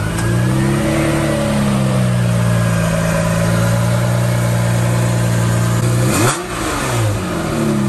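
A Ferrari 512TR's flat-twelve engine idles just after a cold start, a loud, close, steady low rumble that briefly blips and dips near the end before settling back.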